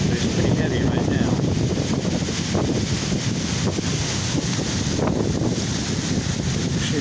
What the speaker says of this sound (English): the wind was stronger about a minute ago and I was before I recorded. It's pretty heavy right now.